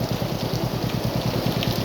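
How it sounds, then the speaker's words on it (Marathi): Steady rain hisses and patters close by, a continuous wash of sound with a faint rhythmic tapping underneath. "पाऊस जाणार नाही"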